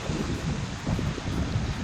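Sea waves roll onto a shore in Cyprus under steady wind, a continuous close rushing and buffeting with gentle surges and no talk.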